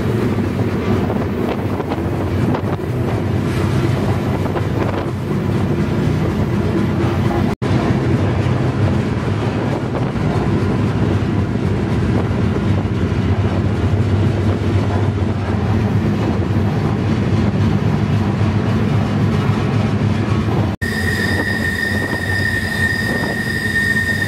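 A slow freight train rolls along, heard up close from aboard while trainhopping in the American West. A continuous low rumble and rattle of wagons runs the whole time, with heavy wind buffeting the microphone and no talk.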